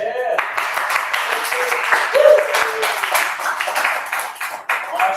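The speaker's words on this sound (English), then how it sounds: "a round of applause for Steve in the" A seminar audience gives a round of applause for a man named Steve in the back of the room, a dense patter of clapping running throughout with voices mixed in.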